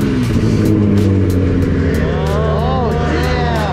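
A race car engine runs loud and close, throbbing at a steady idle before a rising rev sweeps up and falls back, with repeated short bursts layered over the continuous roar.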